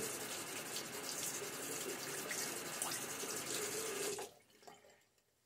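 Running tap water pours steadily as a safety razor is rinsed after a shaving pass, a close broadband rush that cuts off abruptly near the end, leaving a few faint drips and splashes.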